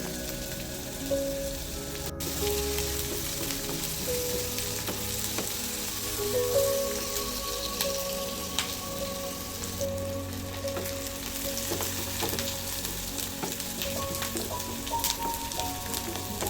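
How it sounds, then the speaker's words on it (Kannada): Finely chopped onion sizzles steadily in hot oil in a pan for vermicelli upma, a continuous crackling hiss with occasional stirring scrapes and clinks, close and unbroken, with no talking. "ಈಗ ಇಲ್ಲಿ ಈರುಳ್ಳಿ ಚೆನ್ನಾಗಿ ಫ್ರೈ ಆಗಿದೆ"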